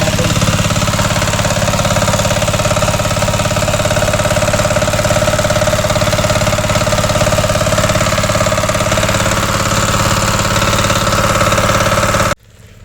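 A water pump engine runs at a steady, loud, droning idle with a constant hum. It cuts off abruptly near the end.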